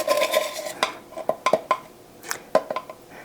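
A spoon stirs and clinks against a bowl as bread batter is mixed with baking powder and pumpkin pie spice, giving a run of irregular scraping knocks and sharp taps, close and moderately loud, with no voices.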